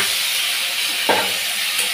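Chopped onion drops into hot oil in a pan, giving a steady bright sizzle throughout with a brief louder crackle as the pieces hit the oil, close and alone.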